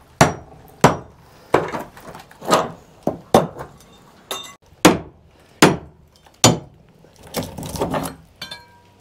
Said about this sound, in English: the best way to remove flathead screws is with a hammer